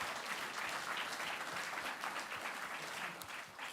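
An audience at a VR industry showcase event applauds continuously, dense clapping from many hands filling the whole stretch at an even, moderate level.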